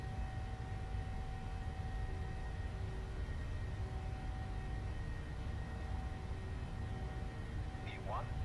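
A Boeing 737's engines roar at takeoff thrust in Microsoft Flight Simulator 2020, a loud, steady broadband rumble with faint tonal whines, and a voice speaks briefly over it.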